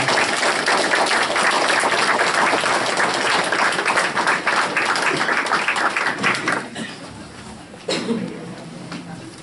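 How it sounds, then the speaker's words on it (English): A room at a school board meeting breaks into sustained applause for students, loud and even for several seconds before thinning out, with a few scattered claps and a small thump as it fades. "Let's give these students a round of applause"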